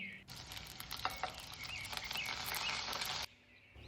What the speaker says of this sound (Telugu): దీంట్లోకి రెండు పచ్చిమిరపకాయ ముక్కల్ని కొంచెం కరివేపాకు వేసుకుని ఫ్రై చేసుకోండి